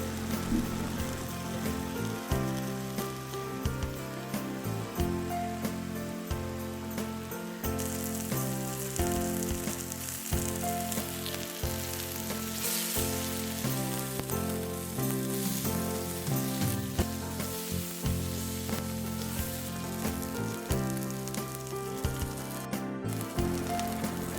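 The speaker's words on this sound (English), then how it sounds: "Pan fry the tomatoes in medium to high flame until they change color on both sides." Tomatoes fry in an oiled pan over a medium to high flame, giving a steady close sizzle with faint crackles and occasional stirring. The sound runs alone for its whole length with no voices.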